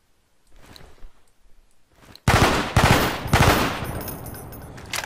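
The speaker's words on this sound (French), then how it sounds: "on passe à la M16. Donc là, elle peut tirer en 3 balles." M16 rifle in Garry's Mod firing in short three-round bursts, loud and close, several bursts in a row following a few quieter clicks and handling sounds.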